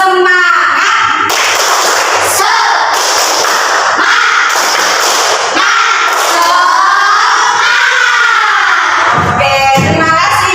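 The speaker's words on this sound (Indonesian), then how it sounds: "Tepuk semangat." A classroom of students stands and performs a rhythmic spirit clap chant before a lesson, a loud and continuous group of clapping and shouting voices at close range that fades out near the end.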